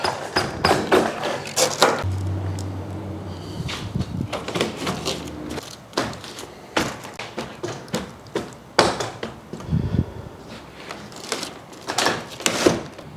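Trough section of an Oasis Cool Cell system being pushed into place against an end cap, giving a run of close, irregular thumps, knocks and sliding scrapes with brief pauses, and no talking.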